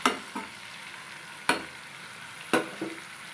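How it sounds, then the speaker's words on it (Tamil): Paneer cubes lightly roasting in a pan, with a soft steady sizzle broken by four sharp clinks and scrapes of a spatula stirring at intervals, close and alone, no voices. "அதெல்லாம் எடுத்து இதில் போட்டு பன்னீரெல்லாம் லைட்டாக ரோஸ்ட் பண்ணிவிடுங்க."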